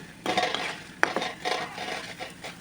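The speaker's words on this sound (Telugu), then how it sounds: "చూడండి మీకు సౌండ్ వస్తుంది ఆల్రెడీ క్రిస్పీనెస్ది" Crispy banana fry being tossed with masala in a pan, giving a few scraping, clattering stirs with light metallic clinks, close and fairly loud, no voices.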